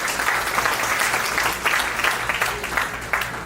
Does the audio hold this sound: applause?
yes